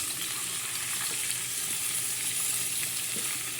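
Chicken feet frying in hot oil until golden brown for adobo, a steady, close crackling sizzle with no talk.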